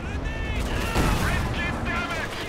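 Machine gun bursts and mortar blasts from the World War II strategy game Company of Heroes 2 rattle on without pause through a 2v2 match, with a commentator's voice running over the battle.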